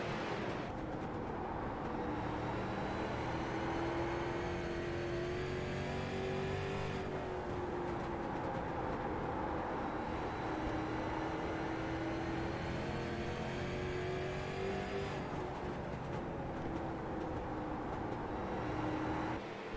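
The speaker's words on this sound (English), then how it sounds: "on board for one lap with Jordan Babinger, let you listen to what these competitors are doing to these race machines to put down a quick lap" Street stock race car engine heard on board during a quick lap, a loud continuous close-up drone whose pitch climbs and falls as the car accelerates, shifts and brakes through the corners.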